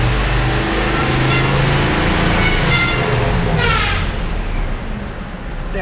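A Ram pickup truck with a 5.7 Hemi V8 revving loudly up close while the power steering is worked during a pump replacement, a dense sustained engine roar that eases off near the end.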